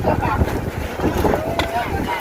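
Strong storm wind gusts across an outdoor Thai merit-making food festival where papaya salad is being pounded, a loud, steady roaring rush buffeting the microphone while people talk and shout nearby.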